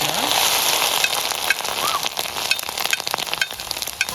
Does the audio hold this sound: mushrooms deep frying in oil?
yes